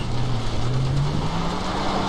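A car labours up a slippery, rain-soaked dirt slope, its engine droning close with a rising whine that climbs steadily over a short stretch, with no talking.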